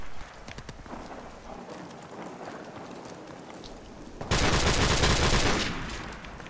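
Gunfire in a Call of Duty remaster: scattered sharp shots crack over a busy battlefield background, then a loud, dense burst of fire roars for about a second before easing off.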